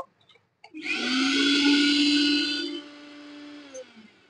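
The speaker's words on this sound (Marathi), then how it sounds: "मित्रांनो, अशा प्रकारे आपलं मिक्सर रिपेअर झालेला आहे" A repaired kitchen mixer grinder starts up after a brief silence, its motor whining loudly and steadily for about two seconds before spinning down, up close with no talk.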